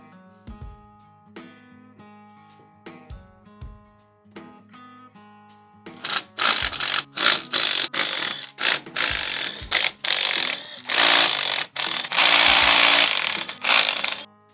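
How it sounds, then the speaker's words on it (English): A hand ratchet clicks in quick rhythmic bursts as bolts come off the differential cover of a Ford Excursion, sparse and clear at first, then an air or power tool joins with louder, buzzing bursts. "let's start by getting this diff cover off"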